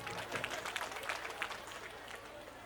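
Audience clapping at a centenary religious discourse gathering, a faint, distant patter of many hands that thins out over a few seconds.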